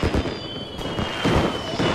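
Fireworks set off by accident, a dense continuous crackle and bursts of small firecrackers with loud low thumps throughout, close and without speech.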